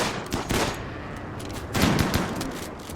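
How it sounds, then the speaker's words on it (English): A chain shotgun firing in RimWorld: loud, rapid bursts of shots in two clusters, with dense crackling blasts and no voices. "As you can see, the chain shotgun has a very limited range."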